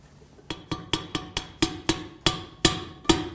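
A series of about a dozen sharp metallic hammer taps at an uneven, quickening pace, close by, driving a journal bearing into a screw casing.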